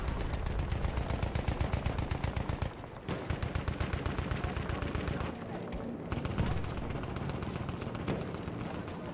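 Rapid anti-aircraft gunfire from a Battlefield 1 match, relentless fast bursts of heavy automatic shots hammering almost without pause, loud and close, with a brief dip partway through.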